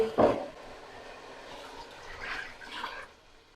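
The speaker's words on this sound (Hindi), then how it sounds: "अब इसमें पानी शामिल करेंगे।" Water splashes into a pan of fried spices while chicken mandi is cooked. A short, sharp pour comes first, then soft, faint bubbling and sizzling follows, with no voices.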